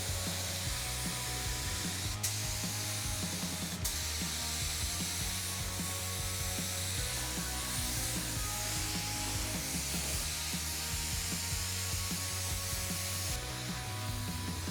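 A spray gun lays primer onto an OBS truck roll pan, giving a continuous airy hiss with a steady mechanical drone beneath it and a couple of brief clicks as the trigger is worked.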